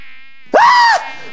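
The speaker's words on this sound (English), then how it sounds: "Do you hear that? I don't hear anything. It's buzzing." A single buzzing insect drone, close and loud, rises abruptly for about half a second and then cuts off, set in a comedy sketch.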